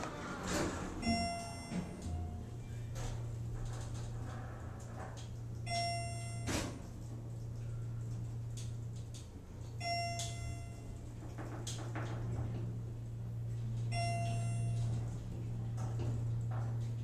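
A Schindler elevator with a 3,000-pound capacity at a Hampton Inn hotel in Commack, New York, with a quick-closing door. Repeated chimes and clunks arrive every few seconds over a steady low motor hum, with no talking.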